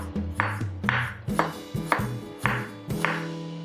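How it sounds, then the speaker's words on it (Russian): A knife finely chopping jalapeño and red peppers on a board: about seven evenly spaced, crisp, close chops, each with a short ringing tail. "Перец я прям измельчаю. Также измельчаю красный перец."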